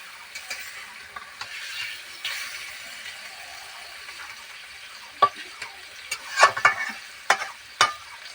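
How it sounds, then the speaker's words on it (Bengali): Fish frying in a pan just after being turned over in a village kitchen, a faint low sizzle broken by several sharp spatula clinks and scrapes toward the end. "মাছটা এক পিট হয়ে গেছে এবার উল্টিয়ে দিচ্ছি"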